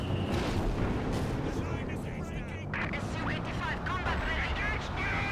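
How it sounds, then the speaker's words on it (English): An Airboss Barrage artillery strike in a video game rumbles in rolling booms and blasts, dense and loud, while a voice talks over the bombardment. "there's it again, the Airboss Barrage"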